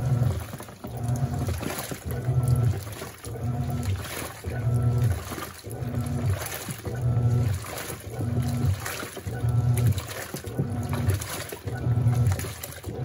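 A Panasonic NA-F140B6 washing machine washing work jeans, with water sloshing and splashing in a steady rhythm as the drum turns back and forth in regular cycles, close and continuous throughout.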